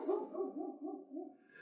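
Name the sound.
neighbor's dog barking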